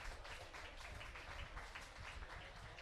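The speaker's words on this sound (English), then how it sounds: "Huge round of applause." Crowd applause at a football match as a player is substituted off, a steady wash of clapping from spectators throughout, fairly distant and continuous.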